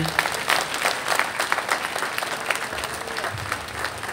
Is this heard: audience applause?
yes